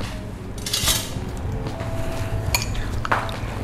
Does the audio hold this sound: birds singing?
no